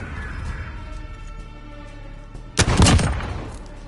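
A single loud burst of gunfire cracks out late in a 2v2 gunfight video game, standing out sharply from the quieter game ambience before it.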